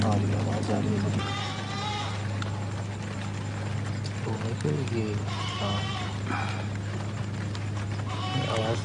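A goat bleats repeatedly in short wavering cries, several bursts spread through the clip, heard over a steady low mechanical drone and rain-like noise while people talk nearby.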